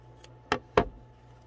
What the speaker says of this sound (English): and then trim up any excess.